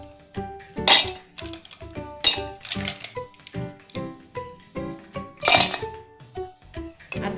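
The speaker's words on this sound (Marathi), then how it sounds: "आता यामध्ये आपल्याला आईस क्यूब्स टाकून घ्यायचे आहे" Ice cubes dropped one after another into a glass for cold coffee, producing a series of bright clinks and clatters with short gaps between them, close and fairly loud, with no voices.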